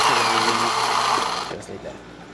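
A Gaggia Anima coffee machine's built-in grinder runs with a loud, steady motorized whir, then winds down and fades at the end of a short burst.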